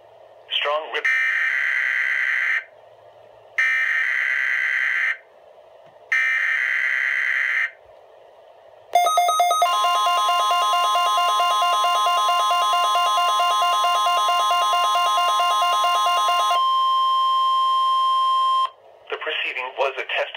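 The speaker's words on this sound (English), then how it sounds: "The proceeding was a test of the National Weather Service warning alarm tone." A National Weather Service warning alarm tone test over a WR-120 weather radio: three loud, evenly spaced beeping bursts, then a long sustained piercing tone lasting several seconds before cutting off.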